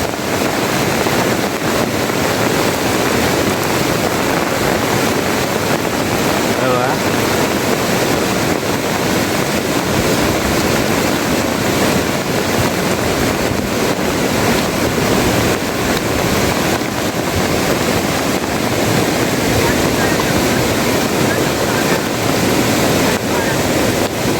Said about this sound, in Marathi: खूप पाणी वाढत चाललं आहे